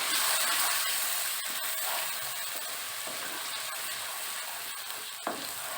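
Masala paste sizzles steadily in about three spoons of hot oil in a kadai, with Kashmiri red chili powder added, giving a continuous close hiss with a few faint clicks and stirring scrapes.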